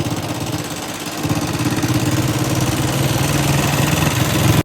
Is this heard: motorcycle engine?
yes